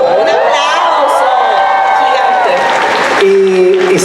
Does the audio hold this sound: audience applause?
yes